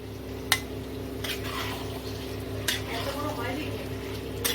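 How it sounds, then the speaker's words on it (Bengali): Remaining chicken pieces go into a pan of frying spices, giving a soft sizzle under a steady hum, with a few sharp clinks and scrapes of a utensil against the pan; a voice talks in places. "বাদ বাকি চিকেনটিকেও দিয়ে দিচ্ছি"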